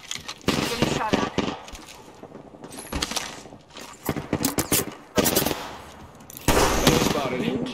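Automatic weapon fire in the battle game Apex Legends, with loud rapid bursts repeating across the clip over a busy game soundtrack and effects, with voice lines mixed in.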